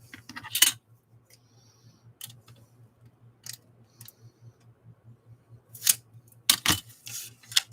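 Scissors snip through craft material for a magnetic ephemera holder in scattered sharp cuts, some in quick clusters, over a faint steady hum.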